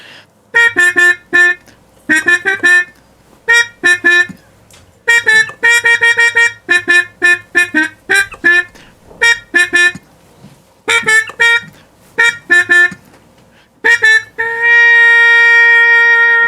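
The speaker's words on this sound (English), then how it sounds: "pull out the Harmon mute for the cool jazz sound." A trumpet with a Harmon mute plays a cool, breathy jazz line in short phrases and bursts, ending on a long sustained note, alone and fairly loud.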